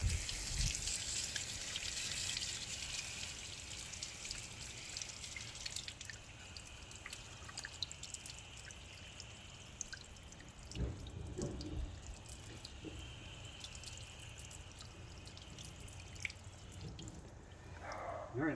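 A faint, continuous spray of water rinses a car wheel on a flood setting, patters and drips running under it, with short splashier bursts partway through.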